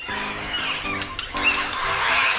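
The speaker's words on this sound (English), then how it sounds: "Parrot." Parrot letting out a run of raspy squawks and chattering calls, close and fairly loud, with short whistle-like notes mixed in and no talking.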